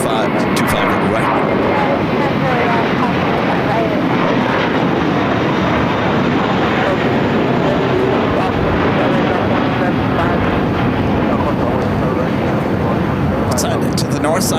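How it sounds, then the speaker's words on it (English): A JetBlue Airbus A321 roars loudly and steadily while taking off on runway 25 right at LAX, its engine noise thick and continuous, with wind buffeting the microphone. "JetBlue A321, next takeoff, 25 right."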